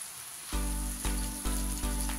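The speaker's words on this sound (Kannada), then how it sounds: "ಇದೊಂದು ಅರ್ಧ ಫ್ರೈ ಆಗಿದೆ ಕ್ಯಾಪ್ಸಿಕಮ್ಮು" Capsicum half-fried in a hot pan with salt added, a steady bright sizzle with a few soft knocks or stirring bumps at regular intervals.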